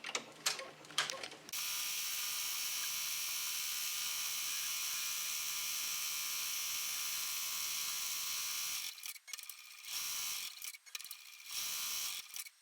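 An EM1010 embroidery machine stitches a bow appliqué onto a sweater, a steady rapid mechanical whir running loud and continuous for most of the span, with brief clicks before and irregular stops and starts near the end.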